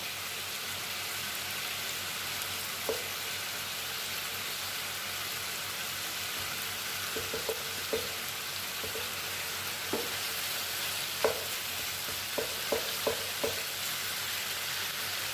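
Chicken pieces and tomatoes fry in oil in a pan for chicken karahi, with a steady sizzle and scattered clinks and scrapes of a spoon stirring. No one speaks.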